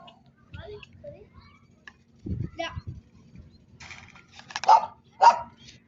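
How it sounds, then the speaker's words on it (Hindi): A dog barks a few times, sharp and fairly close, among scattered clicks and faint voices, at a fair with animals in Riyadh, Saudi Arabia. "ये कुत्ता भौंक रहा है"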